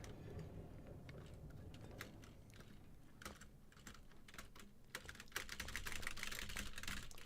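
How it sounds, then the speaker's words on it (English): Computer keyboard keys clattering in quick irregular bursts, faint and close, with the pace quickening and the clicks growing denser toward the end. "I hate the way keys sound."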